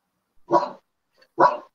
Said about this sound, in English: Dog's going mad in the background.